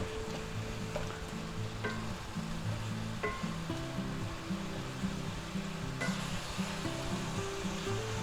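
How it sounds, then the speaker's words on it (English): Onions fry quietly in a skillet for a ground beef dish, a soft continuous sizzle with a low rumbling hum and occasional faint clicks. "Then we're going to take our nice onions and we'll put them in there. And we'll fry them up."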